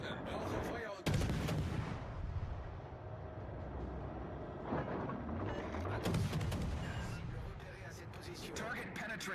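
Naval artillery in a warship video game, with heavy booming gun salvos and rumbling impacts under continuous talk.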